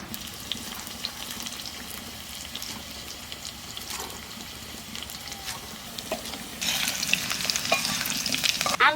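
Tangra fish fry in a pan with a steady, moderate sizzle and light stirring scrapes; the spitting grows noticeably louder and harsher near the end.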